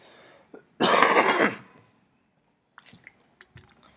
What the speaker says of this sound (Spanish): puede ser que se escuche mi tos en la presentación